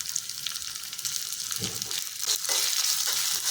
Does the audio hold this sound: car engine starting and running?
no